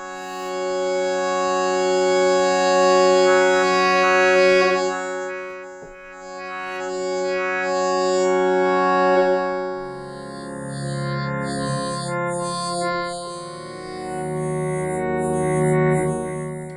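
A sustained Waldorf Blofeld wavetable synthesizer pad with pulse width modulation, slowly shifting, wavering tone, its timbre sweeping and changing in brightness as new layered notes enter partway through.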